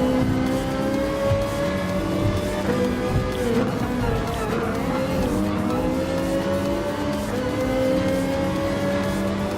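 A Ferrari 458 Italia GT3 racing in Gran Turismo Sport holds a loud, continuous engine roar that rises and falls with the gears, with other race cars mixed in and a hint of tire squeal.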